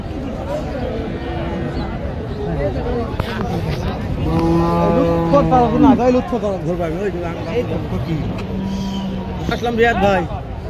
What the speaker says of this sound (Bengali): খুব সুপার কোয়ালিটি বলদ গরুগুলো